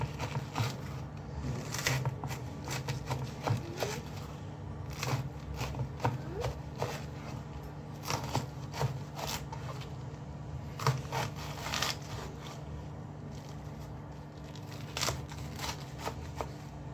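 A knife cuts and dices a banana flower in a bowl, with repeated crisp, irregular chopping and slicing clicks, close up and fairly soft, continuing steadily for the whole stretch with no speech.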